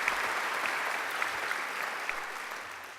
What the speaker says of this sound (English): I think he deserves another great round of applause.